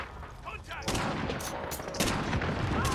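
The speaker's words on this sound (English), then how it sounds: "I hear shooting" Gunfire in Call of Duty: Modern Warfare, with a RAM-7 rifle in play, crackles as dense bursts of shots, growing louder and more sustained after the first second and continuing to the end.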